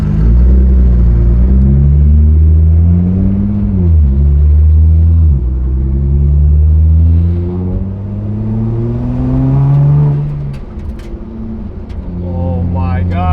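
A 1200HP widebody Nissan GTR rumbling and pulling onto a main road, its deep engine note rising and falling through gear changes close by, with excited talk over the drone.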